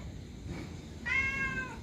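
A cat gives a single clear, fairly close meow, alone over a faint background hum.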